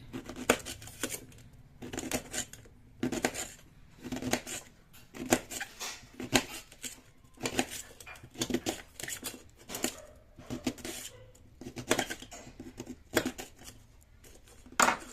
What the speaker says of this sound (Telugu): బాగా కడిగేసి చిన్న చిన్న ముక్కలుగా కోయండి